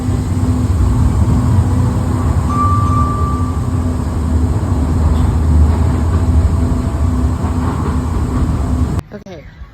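A train rumbles steadily along the rails, loud and close, heard from aboard, with a constant low roar that drops away abruptly near the end.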